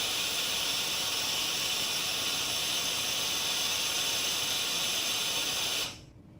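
Compressed-air cabinet cooler hissing steadily, a loud broad airy rush that continues unchanged for several seconds and then cuts off abruptly, leaving near silence.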